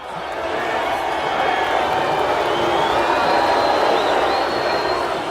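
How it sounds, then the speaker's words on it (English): A hostile crowd roars steadily in a packed arena as a boxer makes his way toward the ring, a dense, continuous wash of voices building slightly and holding loud for several seconds, with no clear individual speech. "Listen to this crowd."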